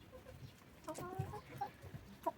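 Chickens in a backyard coop, including small egg-laying hens and a broiler hen, give a few soft scattered clucks and short calls at moderate distance over low background rustle.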